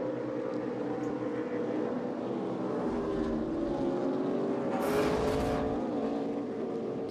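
NASCAR Xfinity Series race cars at the 2024 Focused Health 250, a steady roar of engines on track with a car's pitch sweeping past midway and a louder surge near the end, no talk.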